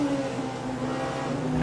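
A Porsche 963 hybrid prototype race car accelerates at Fuji in Le Mans Ultimate, its engine holding a steady, fairly quiet drone with a faint rising rev toward the end.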